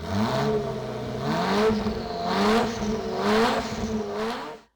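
A Ferrari F40 engine with a tube exhaust revs hard from inside the cabin, rising and falling through several throttle pulls with a raspy, droning exhaust note before cutting off.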